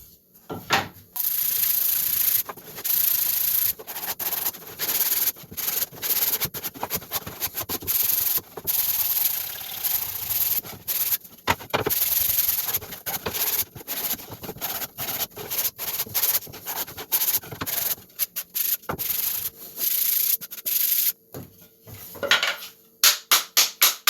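Wooden side panels of a paper dispenser add-on for a workshop outfeed table are sanded by hand in steady, close, scratchy strokes that run on and on, with a few sharp knocks near the end.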